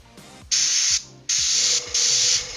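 Airbrush spraying paint onto a Wild West Exodus tabletop miniature during color blocking: three sustained bright hissing bursts of about half a second each, separated by short gaps filled with faint low mechanical clicks.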